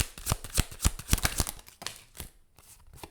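An oracle deck being shuffled by hand, with a quick run of crisp, papery card flicks close up that thins into a few lighter riffles and taps, with no talking.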